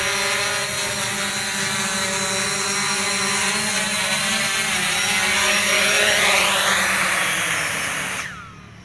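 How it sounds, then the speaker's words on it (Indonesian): A close, steady whirring buzz of small propellers from a landing Fimi X8 SE camera drone, rising slightly in pitch before cutting off abruptly near the end. "Sekarang drone landing."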